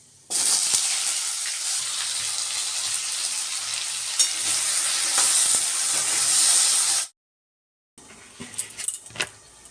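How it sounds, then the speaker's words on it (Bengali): Cut potatoes frying in a kadai give a steady broadband sizzle for about seven seconds. The sound cuts to silence, then returns more faintly with a few scattered clinks and light knocks. "এদিকে আলুটা ভাজা হতে থাক"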